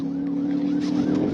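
A loud police siren wails close by during a traffic stop that turns into a pursuit, its pitch sweeping steadily over a motor rumble, with no voices.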